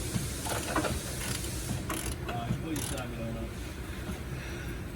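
Hand ratchet clicking while a bolt is removed on a 2003 Ford F-150 truck in a shop, faint quick pawl clicks over a steady background hum, nearby.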